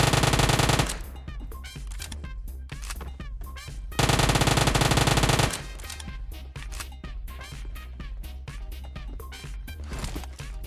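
Gunfire in a shooter video game: loud bursts of automatic fire alternate with clusters of sharp individual shots, close and steady throughout with no talk.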